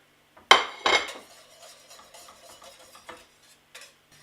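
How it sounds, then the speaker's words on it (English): A whisk clatters in a pan as butter is worked into the sauce for beef Casanova, with two loud scraping strokes at the start and then lighter, irregular taps and stirring that fade toward the end. "Whisk that into the sauce."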